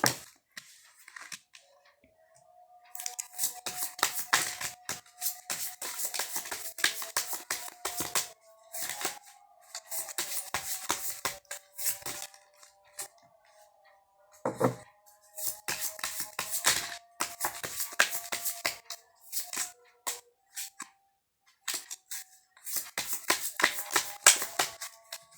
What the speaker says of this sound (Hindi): टैरो से हम कार्ड्स निकालते हैं